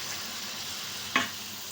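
Egg pitha frying in hot oil in a wok, a steady close sizzle running throughout, with one brief sharp click or spatter just past the midpoint.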